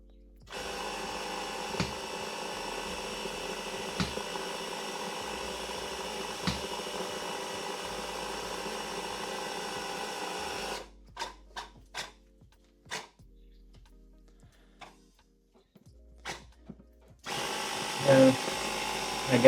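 A cheap Aliexpress air compressor feeds a pneumatic can smasher, humming in a steady, moderate drone for about eleven seconds. It then cuts out, leaving near silence broken by a few sharp clicks, and a short noisy burst returns near the end.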